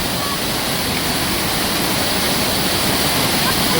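Waterfall water splashes and roars in a loud, steady, unbroken rush heard close by, filling the whole moment with dense hissing spray.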